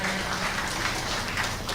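Applause from an audience at a workplace gathering, a broad continuous patter of many hands clapping at moderate distance, steady for the whole stretch with no talk over it.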